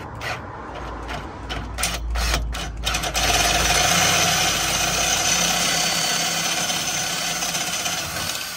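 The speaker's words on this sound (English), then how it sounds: "Let's see whether I can just drill it into there." A loud, steady whirring drill with a right-angle attachment grinds continuously, starting with a few stuttering bursts before settling into a sustained buzzing drone, while fitting fuel injection to a 1967 Pontiac Firebird's 6.6L V8.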